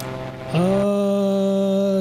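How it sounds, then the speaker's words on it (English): A Cessna Stationair piston propeller engine in Microsoft Flight Simulator 2024 starts up and settles into a loud, steady humming drone, preceded by brief quieter rumbling. "Let's take a listen to the engine sounds,"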